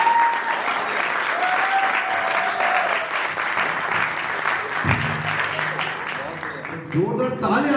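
Audience applause fills a music album release event, sustained clapping at a steady level that thins out toward the end, with a few voices and a brief tone breaking through.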